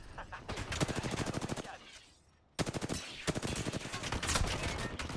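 Automatic weapon fire in Apex Legends rattles out in two long bursts of rapid shots, close and loud, with a brief lull between them.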